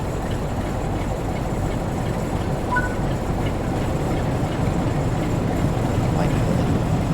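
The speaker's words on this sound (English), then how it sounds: "Class 47 on express train that I've then got to shunt release." A Class 47 diesel locomotive hauling an express of Mark II coaches at Blackpool North in Train Sim World, giving a steady, unbroken low rumble and rolling drone throughout.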